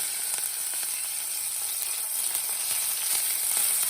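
Mustard seeds and cumin crackling in hot oil for a green tomato chutney, a steady, close, fine sizzle running continuously with no talking.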